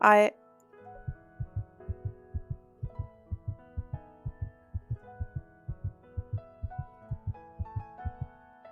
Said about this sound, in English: you can hear your own rapid heartbeat